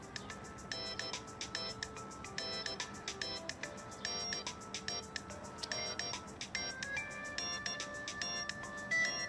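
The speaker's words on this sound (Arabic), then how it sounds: "تليفون مين هيدا؟" A mobile phone left in a jacket rings with a repeating electronic melodic ringtone, steady rhythmic bursts of beeping tones over a low background hum, persisting at moderate volume throughout.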